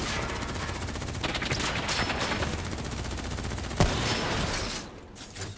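Dense, sustained automatic gunfire in Call of Duty: Black Ops III rattles on loud and close for about five seconds, with a sharp louder crack near the end before it drops off.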